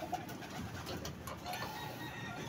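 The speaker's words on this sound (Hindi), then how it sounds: "ये बड़े कबूतर हैं जी हमारे।" Low, soft cooing of large pigeons close by in a cage, repeating gently over a steady background hum with no talking.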